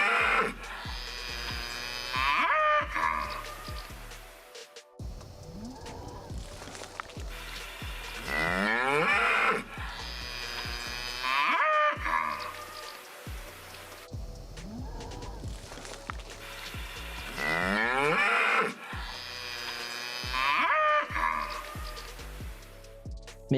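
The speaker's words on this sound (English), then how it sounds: "So I compared it to some cow sounds" Recorded cow mooing plays as a sample for comparison, with four or five long, loud drawn-out lowing calls separated by short gaps and no talk over them.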